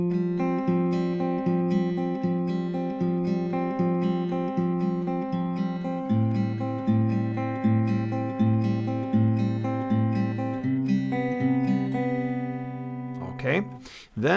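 Acoustic guitar plays the chord progression of a song at a slightly slow tempo, steady picked chords ringing close and alone, ending with a brief scrape.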